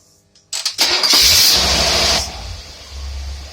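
An engine fitted with a Rochester Quadrajet carburetor cranks with a few quick bursts, catches and roars up loudly with hissing, then drops back to a steady, lower idle.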